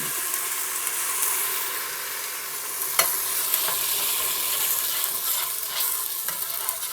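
A steady, bright sizzle of ginger and garlic frying in hot oil, with occasional light clicks of stirring, no voices.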